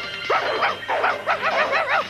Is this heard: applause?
no